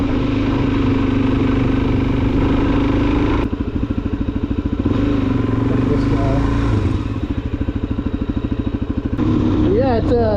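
Steady, loud engine drone from a 2024 Suzuki DRZ400SM supermoto, pulsing through the whole stretch with shifts in rev and a brief rising whine near the end, rushing wind mixed in throughout.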